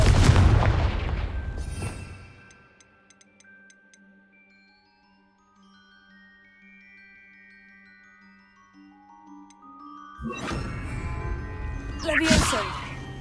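Hogwarts Legacy spell combat with loud blasts and explosive bursts at the start and again near the end, separated by a quiet stretch of sustained magical tones and musical hum.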